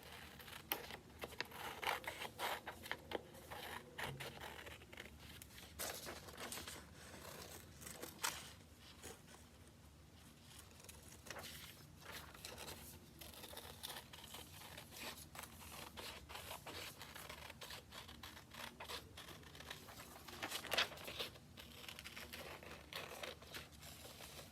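Scissors snip through paper to cut out a hat-shape template for a presidential hats art lesson, giving faint, close, irregular cuts and rustles over a low background.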